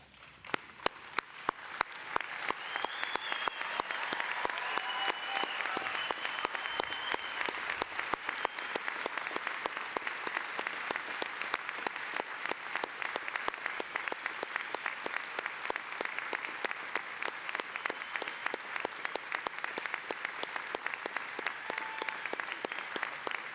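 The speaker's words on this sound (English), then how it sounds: "applaud our wonderful graduates" Sustained applause from a large crowd at a university graduation ceremony, starting with a few scattered claps and swelling into dense, steady clapping that continues throughout.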